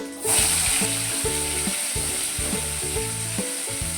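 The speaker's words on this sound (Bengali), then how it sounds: "আলুটা ভাজা হতে হতে" Loud, constant sizzle of potatoes frying in oil with five-spice tempering, beginning abruptly, with a rhythmic low mechanical whir repeating underneath.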